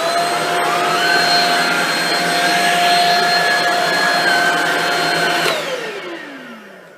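A Shark Rocket Complete vacuum cleaner runs with a loud, steady whine and a high motor tone, then switches off and winds down, its pitch falling away as it coasts to a stop.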